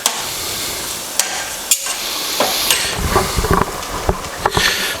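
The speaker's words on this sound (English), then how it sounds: "I'm going to stir everything in" Sauce stirred in a pan for pasta alla buttera, with passata just added: a steady wet scraping and sloshing that grows busier after a few seconds, with a soft sizzle beneath and a few sharp clinks of the spoon against the pan.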